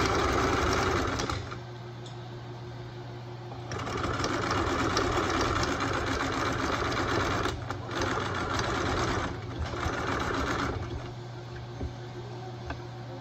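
A sewing machine stitching a set-in sleeve, a steady close mechanical hum and whir that runs continuously, dips briefly, then resumes for long stretches with short pauses between runs, no voices.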